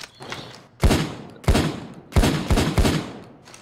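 Shotgun blasts from the video game PayDay 2, five heavy booming shots in an uneven rhythm, each with a sharp attack and a short rolling tail, loud and close with no talk over them.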